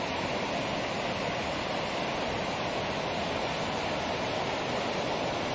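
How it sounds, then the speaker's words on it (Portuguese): Steady roar of the Cachoeira do Fumaça waterfall, a dense, unbroken rush of falling water that holds constant from start to finish with no voices. "É o início da Cachoeira do Fumaça"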